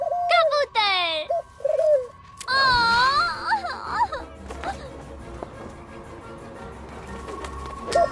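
Cartoon pigeons coo and call in a park, with several warbling, rising and falling bird sounds that overlap with excited high-pitched voices. A quieter, busier stretch of chattering and fluttering follows.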